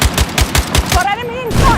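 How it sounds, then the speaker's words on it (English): Enemy machine gun in Battlefield 6 firing a rapid, evenly spaced burst of loud, close shots, then stopping as whistling, whooshing game effects take over. "Enemy machine gun."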